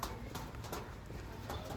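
Andhra Lambadi pigeons in a loft, low cooing and soft wing and foot shuffles repeating steadily over constant background noise, fairly close and moderately quiet.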